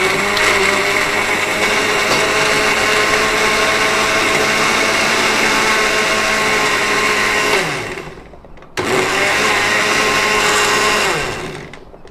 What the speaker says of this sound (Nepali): र यो भयो ग्राइन्डर है